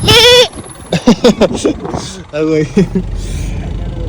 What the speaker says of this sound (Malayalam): കൂടെ ആടുകളുണ്ട് നല്ല നാടൻ ഒമാനി ആട്